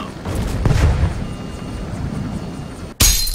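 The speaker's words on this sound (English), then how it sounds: "Return fire!" Gunfire from the stickman video game Henry Stickmin, a loud, dense burst of booming shots and crashes that rumbles continuously for about three seconds before a brief cut and a sharp renewed blast.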